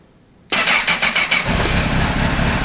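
A Honda 1000RR motorcycle engine with a newly replaced stator cranks and fires up, with a quick stutter of starter pulses, then settles into a loud, steady idle close by.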